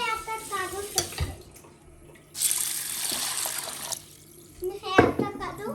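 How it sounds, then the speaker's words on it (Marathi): Water is poured from a tap over whole masoor lentils in a kitchen to soak them, a splashing gush of about a second and a half under a voice, with clinks and more trickling around it. "लगेच मसुरीची डाळ भिजायला टाकते अख्खा मसूर"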